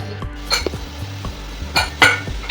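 A metal lid is set on a pan of oil and spice masala cooking for black pea usal, making a few close clanks and clinks with a low, steady stove hum beneath.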